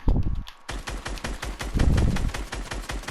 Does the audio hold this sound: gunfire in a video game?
yes